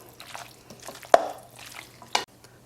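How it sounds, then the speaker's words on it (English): Shredded cheese being stirred into an enchilada filling in a bowl, soft scraping and mixing strokes with two sharper clinks of the spoon against the dish, close and fairly quiet. "Stir until you have everything really well combined."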